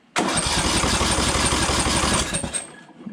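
Briggs engine on a lawn tractor cranking without firing, a loud, rapid rhythmic churn of the starter lasting about two seconds before trailing off.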